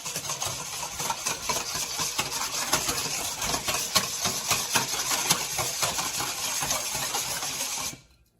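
Yeast and sugar for homemade pizza dough are whisked together: a fast, continuous, bright scraping and rattling for about eight seconds that stops abruptly.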